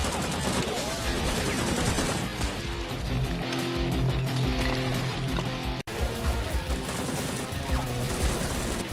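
Gunfire in an action movie rings out right after an order to fire, a dense, loud barrage of shots and crashes that goes on for several seconds amid heavy background noise, with a brief cut near the end.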